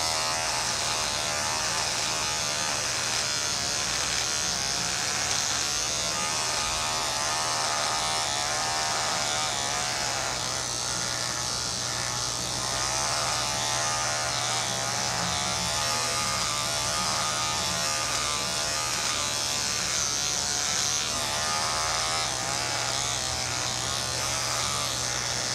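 A Conair electric shaver buzzes steadily and close up while shaving, a constant motor hum that runs without a break for the whole span.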